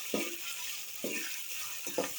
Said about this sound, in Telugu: అలాగే అల్లం వెల్లుల్లి పేస్ట్ ఇవన్నీ బాగా వేగనిద్దాం